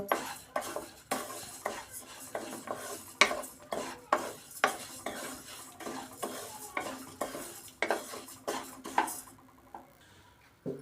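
Moong dal dry-roasting in a pan is stirred briskly with a utensil. Steady rhythmic scraping and clinking strokes repeat roughly twice a second, close and clear, with no talking.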